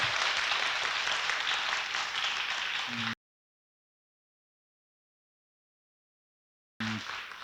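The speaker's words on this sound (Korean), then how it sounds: "박수 한번 주시고요." Applause from a packed audience of about two hundred at a book concert, steady clapping heard at a moderate distance, cut by a long stretch of silence before it briefly resumes.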